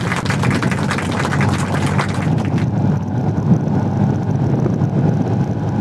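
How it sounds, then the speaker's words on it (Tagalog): Strong wind buffets the microphone in a steady, loud rumble on the Old Zigzag Road in Atimonan, Quezon, with a low engine hum running underneath throughout. "Lakas ang hangin."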